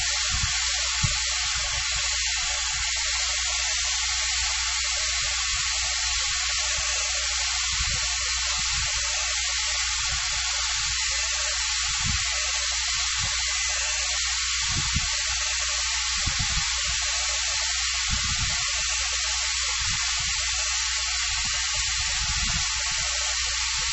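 A dryer blows steadily across an acrylic ocean wave painting, a continuous loud rushing hiss that lasts throughout with only small low thumps underneath.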